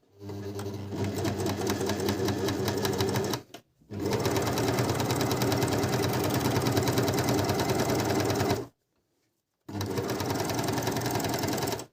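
Merrylock 3000CL coverlock machine sewing fabric, running in long continuous rattling stretches broken by a short stop and a longer silent gap.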